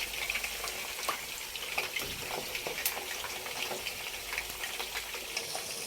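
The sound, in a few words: deep frying whole fish pieces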